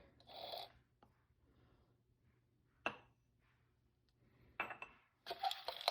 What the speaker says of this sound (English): Give that a nice little stir.